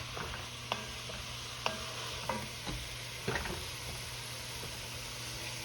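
Seasoning and spices frying in a pot, a steady close sizzle broken by several sharp spoon clicks and scrapes against the pot, without any talking.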